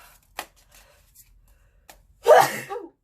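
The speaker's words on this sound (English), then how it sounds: "I feel like I have to sneeze" Quiet clicks and faint breathy sounds lead into one loud, close sneeze near the end, with a short trailing exhale.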